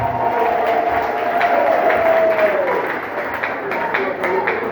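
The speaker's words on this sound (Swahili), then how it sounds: "Eske tunaweza mchapia Yesu Kristo makofi?" A church congregation claps and cheers for Jesus Christ, a dense, steady wash of applause that carries on for several seconds, with a voice held in a long sung or shouted tone over the top.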